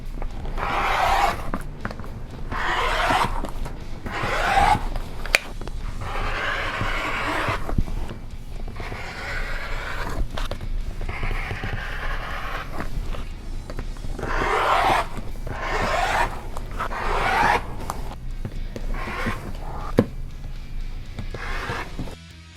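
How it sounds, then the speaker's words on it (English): Rainbow-colored quilting fabric being cut on a mat, a repeated rhythmic rasping slice every second or two, close and steady with no talking. "Let's cut some fabric."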